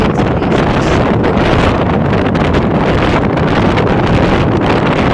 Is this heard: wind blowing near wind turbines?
yes